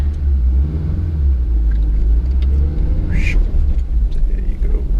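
A 1997 Daihatsu Terios CX with a factory 5-speed manual rumbles along on a test drive, its low engine and road drone steady and loud from inside the cabin, with a brief higher whine midway.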